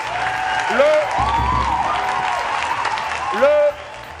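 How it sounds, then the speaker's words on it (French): Studio audience applause on a radio show, a moderate clapping wash under voices talking over it, with the clapping ending abruptly near the close. "Je pense que ça s'applaudit encore, s'il vous plaît."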